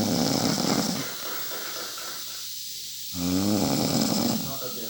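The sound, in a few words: woman snoring loudly like an airplane engine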